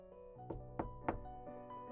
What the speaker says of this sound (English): someone knocked at my door